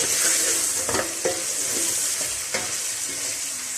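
Spices including turmeric, whole white cumin and ground coriander stirred and fried in a pan for smoky mutton karahi, with a steady close sizzle and a few distinct spoon scrapes and clinks, no talking.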